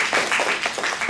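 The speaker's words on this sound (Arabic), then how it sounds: "تصفيق له أولا" Brief burst of classroom applause during an Arabic language class, as students clap together for a classmate; a steady, even patter of many hands lasting about a second.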